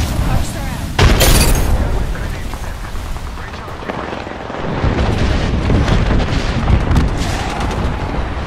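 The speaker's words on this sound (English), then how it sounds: "Throwing thermite grenade." A thermite grenade bursts in the Apex Legends video game, a loud boom followed by roaring, crackling fire and rumble, with game voices and effects mixed in.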